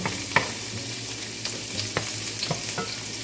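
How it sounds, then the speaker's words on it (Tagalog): Chopped garlic sizzling in a hot pan for pork giniling, with a steady fry hiss underneath, a low hum, and a few sharp utensil scrapes and clicks as it is stirred. "So pag tayo naggigisa, unahin niyo parati yung bawang ano."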